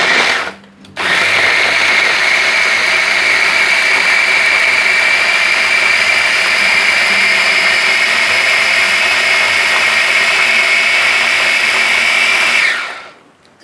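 Blender blending spice ingredients with water for Muar assam fish, starting abruptly after a short burst and holding a loud steady high whine for about twelve seconds before cutting off, no talk.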